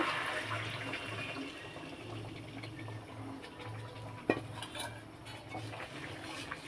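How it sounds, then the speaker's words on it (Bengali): Stock is poured into a pot of Bengali mutton curry with fried potatoes, a soft, steady liquid pour and sizzle close by, broken by one sharp clink of a utensil against the pot. "এবারে আমি এর মধ্যে স্টকটা দিয়ে দেব"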